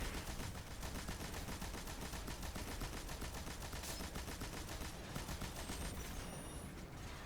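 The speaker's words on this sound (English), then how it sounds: "I'm just going to use the remainder of my machine gun ammo on this" A machine gun rattles nonstop in the video game Destiny 2, a dense, even stream of rapid shots with no pauses, loud and close throughout.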